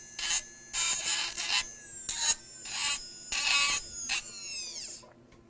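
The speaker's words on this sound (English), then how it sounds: "the trimmer cuts very smooth and removes material very quickly" A dental trimmer spinning at about 20,000 to 25,000 RPM grinds an acrylic Valplast partial denture in about eight short rasping bursts of varying length, close and fairly loud, with brief quiet gaps between passes.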